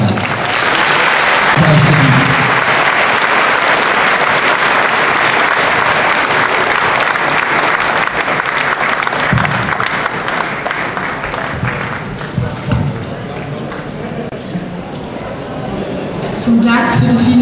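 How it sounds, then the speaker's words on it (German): Sustained audience applause at a school graduation ceremony, dense steady clapping from a large crowd that holds for the whole stretch and thins slightly toward the end before swelling again. "herzlichen Applaus für alle."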